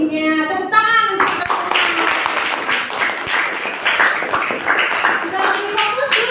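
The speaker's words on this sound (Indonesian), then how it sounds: "Tepuk tangan." Students in a classroom clap their hands together after an ice-breaking game, a continuous busy round of applause, loud and close, with a voice speaking just before it begins.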